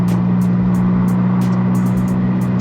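A loud 210 bhp Audi S3 8L drives along a road, giving a constant heavy engine drone with a strong low hum and a few sharp ticks above it.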